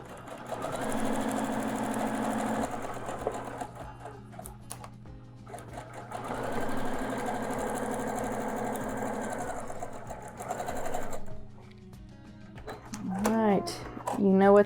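Domestic sewing machine stitching quilt blocks together, running in two sustained bursts of steady whirring with a pause between, close and fairly loud, with a brief voice near the end.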